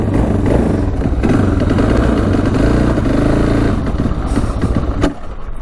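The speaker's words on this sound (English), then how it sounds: "Hopefully it goes throughout the gears and revs out." A street legal dirt bike's engine runs loud and close, revving steadily through the gears with a continuous rough drone and brief clatter, then a sudden pop near the end.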